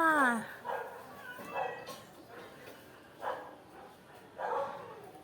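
Several short dog barks and yips ring out in spaced bursts at an animal shelter, moderately close, with a quiet background between them.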